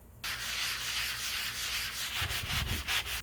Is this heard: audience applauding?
no